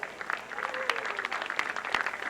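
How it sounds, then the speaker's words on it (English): Crowd applause at an American Legion state tournament home run derby, a steady patter of clapping from a modest crowd that runs the whole way through. "Big round of applause for Matt Suggs."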